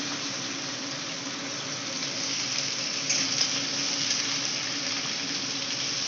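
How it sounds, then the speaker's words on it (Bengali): Bitter gourd and drumstick pieces fry with salt in a pan, giving a steady, even hiss of hot oil that holds at one level throughout, close and without voices. "আবার আর এই উচ্ছে আর সজনে ডাঁটা ভাজছি, এটা নুন দিয়ে ভেজে নেবো।"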